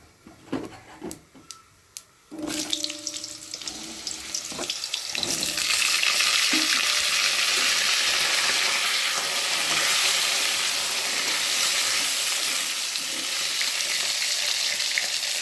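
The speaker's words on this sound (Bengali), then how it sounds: "আলুগুলোকে লাল লাল করে ভেজে নেব।" A few handling clatters and knocks give way to potatoes hitting hot oil in a pan with spice tempering, setting off a loud sizzle that swells and then holds steady, close and dense, until the end.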